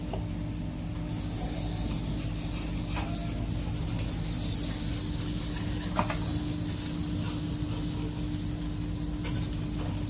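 A besan flatbread frying in oil on a pan gives a steady, close sizzle with a constant low hum beneath and occasional soft scrapes or clicks as it is turned.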